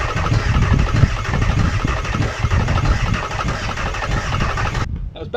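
A van engine running just after starting, with a loud, close, rough idle that chugs steadily for several seconds before cutting off abruptly near the end.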